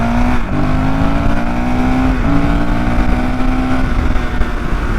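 Honda CRF450RL dirt bike on a test ride, its single-cylinder engine droning steadily and loudly close by, pitch dipping and climbing again through gear changes with no talk over it.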